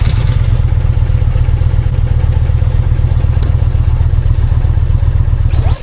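A 2025 Indian Chieftain PowerPlus 112 motorcycle engine runs at a steady, loud idle close by, with a dense low rumble throughout that stops abruptly at the very end.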